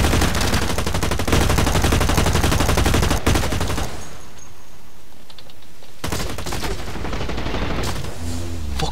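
Rapid gunfire in the shooter game Blacklight Retribution, a dense continuous burst of automatic shots for about four seconds, then quieter game ambience with another stretch of shooting near the end.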